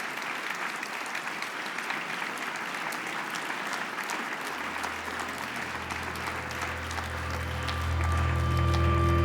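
A conference hall audience applauds President of Romania Klaus Iohannis at a keynote, a steady dense wash of clapping that continues as a low hum rises underneath toward the end.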